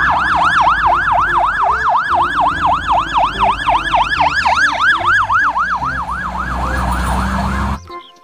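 A toy fire truck siren wails loudly in a fast, repeating up-and-down cycle, close by, with a faint hum underneath, cutting off abruptly near the end.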